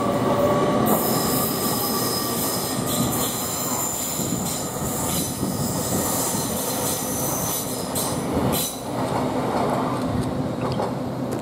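An LNER Azuma Class 801 train departs York station for London King's Cross, a loud, close, sustained rumble of rolling wheels with strong, high metallic squealing from the rails throughout.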